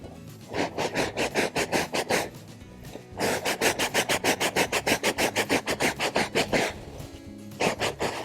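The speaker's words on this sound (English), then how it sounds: "I've wet the whole surface here and brushed it with a soft bristle brush" Soft bristle brush scrubbing the wet surface of a sailboat, heard as loud, close, rhythmic strokes in quick back-and-forth bursts, with a few short pauses between sets.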